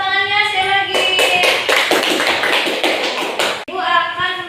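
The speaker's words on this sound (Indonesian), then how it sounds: "Tepuk tangannya sekali lagi." A classroom group claps hands together in a quick, steady burst of applause, close and fairly loud, while a voice and tonal sounds carry through the middle of the burst.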